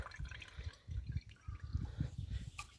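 Nettle liquid manure poured into water to dilute it for spraying, a close, steady gurgling splash with small drips running throughout, no voices.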